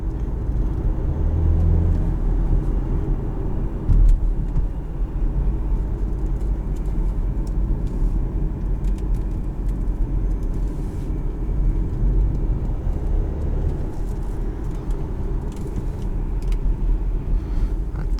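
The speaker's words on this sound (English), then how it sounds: "This 2-liter has a lot of torque down low, and the way it delivers power is actually pretty good." A 2018 Audi Q5 Premium Plus with a 2-liter engine drones steadily from inside the cabin while driving, a constant low rumble and road noise with no voices.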